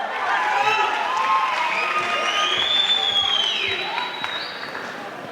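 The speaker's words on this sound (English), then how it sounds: "Give a round of applause." Applause and cheering from a crowd at a campus poetry event fill the whole stretch, a steady wash of clapping mixed with shouts and whoops that tapers slightly toward the end.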